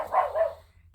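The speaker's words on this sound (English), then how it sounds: "That's my dog, apologies for that." A dog barks twice in quick succession, close and fairly loud, then things go quiet.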